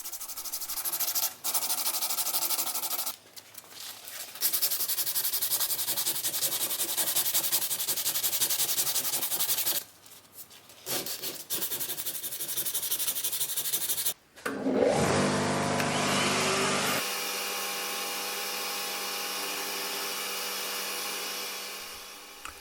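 An old flea market angle grinder being restored, its parts worked over by an abrasive wheel: a steady, loud sanding and rubbing roar that runs in long bursts with brief pauses, then a rougher, higher grinding pass before settling again.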